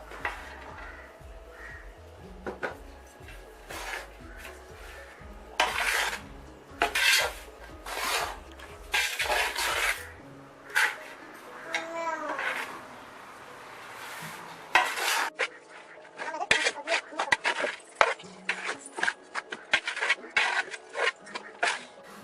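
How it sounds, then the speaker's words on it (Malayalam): A spoon stirs and mixes ingredients in a bowl, with salt just added to milk and powder. Repeated scraping clinks and rubs come in irregular bursts, close and clear, with no talk. "ഇതാദ്യം തന്നെ നന്നായിട്ടൊന്ന് ഇളക്കി ചേർക്കാം."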